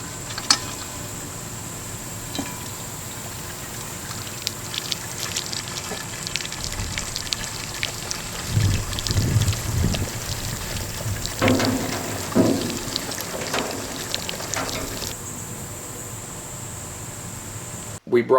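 Hot sorghum syrup draining out of a cooking pan after the burners are switched off, a continuous gushing, splashing pour with scattered drips and bubbling, heard up close.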